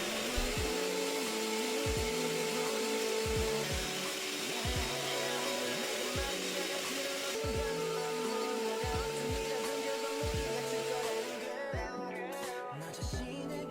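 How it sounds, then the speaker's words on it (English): Electric mixer beating two egg whites until stiff for a dalgona tiramisu, a loud continuous whirring drone with rhythmic knocking of beaters against the bowl, close and without speech. "Now beat the 2 egg whites until it's stiff."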